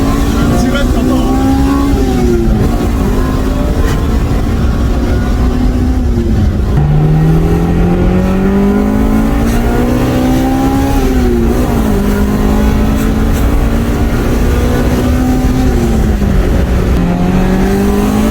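A naturally aspirated Honda Integra Type R engine revs loudly and repeatedly, its pitch rising and falling with each blip of the throttle, close and continuous with people talking over it.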